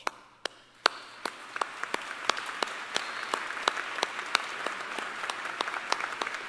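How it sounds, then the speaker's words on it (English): An audience at the Clarke University commencement ceremony bursts into applause, with scattered early claps building quickly into steady, dense clapping heard from a distance in a large hall, with no talk. "Please stand and be recognized with a round of applause."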